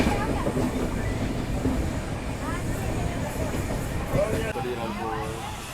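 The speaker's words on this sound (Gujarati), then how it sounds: "આપણી ટ્રેન આવી ગઈ છે જામનગર રેલવે સ્ટેશન ઉપર" Rajkot–Porbandar Motihari Express arriving at Jamnagar railway station, a steady loud rumble of rolling rail wagons with faint clickety-clack throughout, while nearby voices murmur and talk over the train noise.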